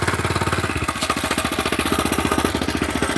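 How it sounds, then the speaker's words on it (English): A small 99cc engine on a trail ride runs loud and close, with a fast steady pulsing putter and a brief change in pitch near the start. No voices are heard. "I'm yelling because this engine is a little loud"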